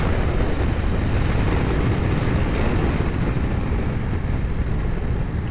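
Strong wind buffets the microphone on a high mountain road en route to Uyuni, a loud, continuous broadband roar with no break, heard alone.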